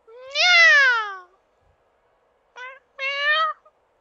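A person imitating a cat's meow: one long drawn-out meow, a pause, then two shorter meows in quick succession, close and clear against silence.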